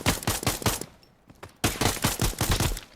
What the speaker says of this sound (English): Now you shot at me.